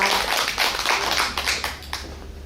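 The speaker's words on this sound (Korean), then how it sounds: "원현숙님에게 큰 박수 부탁드립니다." Audience applause at a national poetry recitation contest, a dense, steady patter of many hands clapping together for about two and a half seconds, fairly close and without voices.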